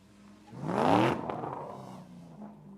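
A lowered drift car fitted with an angle kit revs at a drift event, its engine climbing in a rising whine to a loud peak before easing off, heard from moderately close.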